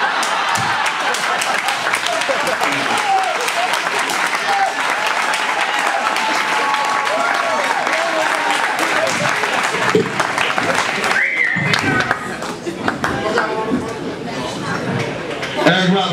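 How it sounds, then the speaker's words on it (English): At a comedy roast, the crowd applauds comedian Erik Robertson with loud, continuous clapping mixed with chatter and some cheering, and the applause thins toward the end. "Erik Robertson, y'all. Give him a round of applause."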